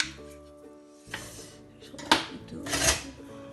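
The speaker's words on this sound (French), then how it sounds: "Alors je prends les figues, donc je vais couper comme ça" A knife cuts fresh figs for fig jam, giving a few close knocks and clacks on a board with brief scraping between them; a voice is faint beneath.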